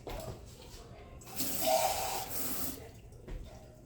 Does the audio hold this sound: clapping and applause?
no